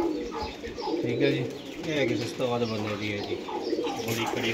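Pigeons coo in soft, repeated low phrases close by, with some faint chirps, while someone talks over them throughout.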